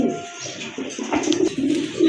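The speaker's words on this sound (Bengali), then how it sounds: "চুইটাল কালদমের একটা মাদি কবুতর, এটা কিন্তু রানিং কবুতর মাশাআল্লাহ" Female pigeon cooing, a soft low throaty coo repeated in a short run of pulses, close and fairly clear with faint background noise.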